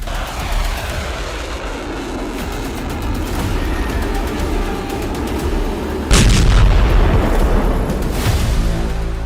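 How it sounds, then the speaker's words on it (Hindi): Bombs dropped by fighter jets explode over Tehran in a dense barrage of rumbling booms and cracks, continuous and far off at first, then a sharper, louder blast cluster hits near the end. "चालीस जंगी जेट से तेहरान में 100 बम विस्फोट।"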